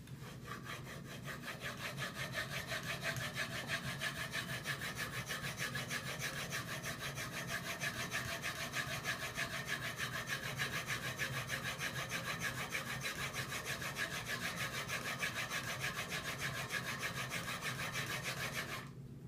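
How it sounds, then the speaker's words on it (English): A block plane blade is ground back and forth on a sharpening stone in a long unbroken run of fast, fine scraping strokes, steady and close at a moderate level with no pauses and no speech. "it's pretty clear exactly where I was just grinding away on my blade there"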